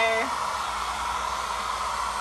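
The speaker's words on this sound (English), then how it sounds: "go around your whole film with your hair dryer" A hair dryer blows with a steady, loud whooshing roar, after a brief higher whine at the very start.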